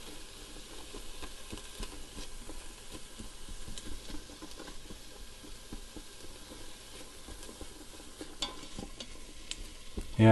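Kimchi chili with garlic and tomato paste cooks in a pot, giving a soft, steady sizzle with occasional stirring scrapes and light pops, fairly faint and without speech.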